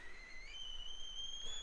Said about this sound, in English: that's the sound of the kettle